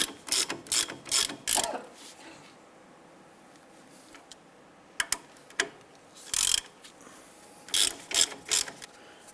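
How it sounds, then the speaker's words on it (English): A ratchet tightens the brake caliper bolts on a 2008-2013 Nissan Rogue in quick bursts of rapid clicking, with pauses between the runs, close and clear with no talk. "let's go ahead and run those down and snug them up."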